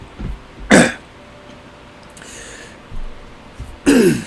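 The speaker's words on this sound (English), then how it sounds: "Gonna be coughing a little bit." A person coughs and clears their throat twice, sharp rough bursts close by, separated by a few seconds of quiet room noise.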